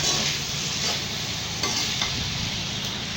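Pasta masala stirred and cooked in a pan, with a steady close sizzle and frying crackle under a continuous scraping stir that runs the whole time, with no voices.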